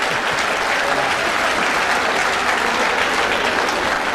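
Loud, sustained applause from a poetry recital audience, many hands clapping in a thick, continuous roar that holds steady from start to finish.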